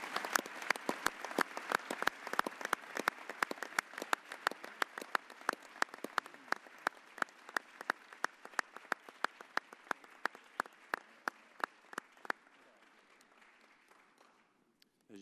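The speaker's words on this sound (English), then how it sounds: "round of applause for your success" Steady applause from a crowd, many hands clapping in a dense patter that holds for a long stretch, then tapers off near the end.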